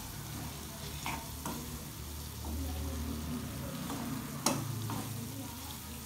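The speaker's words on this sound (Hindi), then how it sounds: "अब ये सब मसाले डालने के बाद फिर एक बार सबको मिला लेते हैं और पका" Spices being stirred and cooked in a pan for a traditional Rajasthani raw turmeric curry, with a steady low sizzle and frying hiss and a few scraping spoon strokes throughout.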